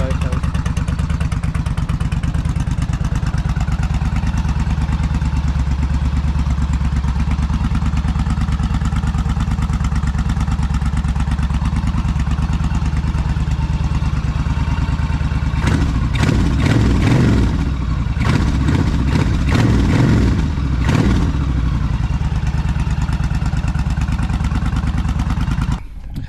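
A motorcycle idles steadily up close for a long stretch, with a rougher burst of engine clatter partway through before settling again, and a person talking over it.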